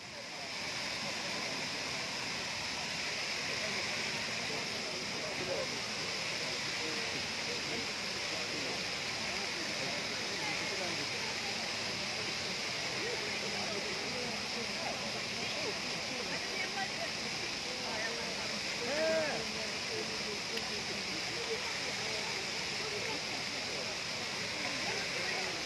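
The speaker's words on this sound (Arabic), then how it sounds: "الماء راه كيضيع بواحد الكثافه وبواحد السيول ديال المياه هنا في هذا الشارع هذا" Heavy water gushing down a city street in Casablanca, a loud, steady rushing roar of flowing water that fills the whole stretch, with faint voices briefly audible.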